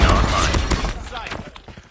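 A pistol shot in a first-person shooter video game, a sharp loud crack at the very start followed by a decaying rumble and scattered thuds over about two seconds.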